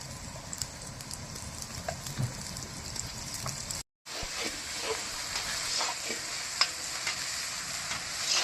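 Ginger and garlic paste frying in a pan for a goat curry, a steady close sizzle with crackles and spatula scrapes, broken by a brief silent cut partway through.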